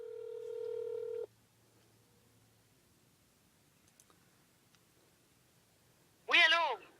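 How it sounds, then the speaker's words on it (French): A telephone is dialed to place a call, with a clear electronic tone lasting about a second. Near-silence follows, then a short burst of a voice at the end. "Maintenant, on appelle Catherine."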